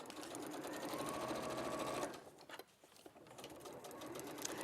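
A sewing machine stitches a sturdy bag seam at a 1.5 centimetre allowance, running steadily, pausing briefly in the middle, then whirring again at close range with no talk.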